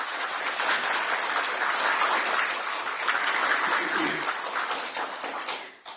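Dense audience applause at a political rally, loud continuous clapping from a large crowd that holds steady for several seconds, then tapers and fades at the end.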